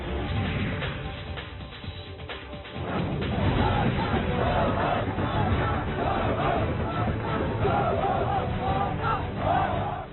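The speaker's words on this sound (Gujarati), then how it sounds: "શ્રીલંકાની રાજધાની કોલંબોમાં અડધી રાત્રે રોડ પર ઉમટી પડી ભીડ" A protest crowd gathered on a road at midnight in Colombo, Sri Lanka, people waving flags and banners, with a dense roar of shouting voices that swells louder after a quieter opening and keeps up steadily.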